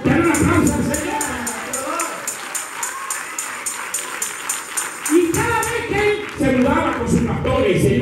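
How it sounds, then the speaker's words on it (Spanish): Congregation in a church applauding for the Lord, steady crowd clapping carrying on for several seconds with voices and a stretch of talk mixed in. "Dale un aplauso al Señor."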